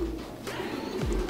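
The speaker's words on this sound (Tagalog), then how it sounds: "Ito ang aming si Cloud, ang aming favorite na ibon." A tame racing pigeon coos close by, low soft throaty calls in a short run, with no voices.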